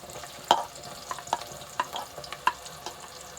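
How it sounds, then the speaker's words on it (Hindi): Chopped onion goes into hot oil for a dhaba-style keema matar, giving a soft, fairly quiet sizzle broken by several sharp clicks of a spoon stirring against the pan, spaced roughly every half second. "ऑयल गरम कर लिया था, अब हम इसमें एक प्याज डाल देते हैं।"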